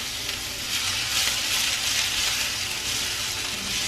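Onions fry in a pot with a steady, close hiss of sizzling and faint crackles that runs throughout with no pauses.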